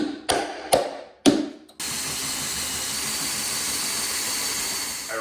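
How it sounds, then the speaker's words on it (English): Three sharp metallic hammer strikes drive a punch through snowmobile running board rivets on a Polaris sled, each ringing briefly, followed by a steady loud whine of a running tool. "it's super helpful to take a punch and punch the inside of the rivet out"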